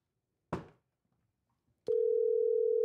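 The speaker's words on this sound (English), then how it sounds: "Little dialing music, Paul." Telephone call being placed: a short click or handset pickup, a pause, then a steady loud ringing or dial tone that continues unbroken to the end, with no speech.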